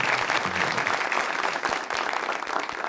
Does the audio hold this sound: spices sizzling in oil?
no